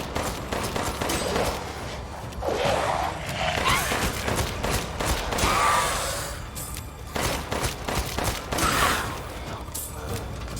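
Handgun fired at a Lycan in Resident Evil Village Mercenaries mode, The Factory stage, with sharp shots in irregular bursts amid clanking, mechanical game noise and busy action sounds.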